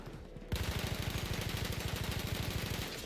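A Battlefield 1 machine gun fires a long, steady, rapid burst without recoil control, each shot thumping loud and close in an even rhythm after a brief quiet start.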